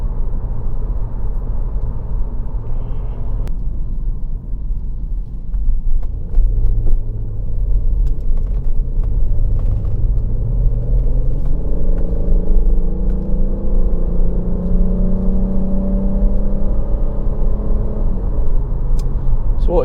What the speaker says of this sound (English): So that V6, it sounds absolutely lovely.